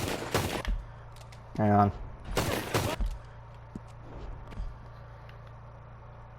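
C-93 Borchardt toggle-lock pistol firing in the Red Dead video game: a few sharp, loud reports in quick succession over background game ambience, with a short spoken phrase in between.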